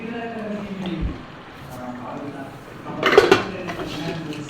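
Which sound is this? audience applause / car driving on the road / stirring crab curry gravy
stirring crab curry gravy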